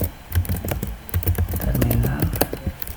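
Quick bursts of clicking keystrokes on a computer keyboard as a command is typed into a router configuration terminal, close and uneven in rhythm, with someone speaking briefly over the typing.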